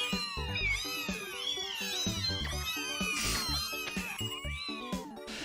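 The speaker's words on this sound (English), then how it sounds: "Because they're actual kitten sounds." Kitten meows from the Amiga video game Naughty Ones, a steady run of short high-pitched mewing calls repeating over layered game music, fairly quiet overall.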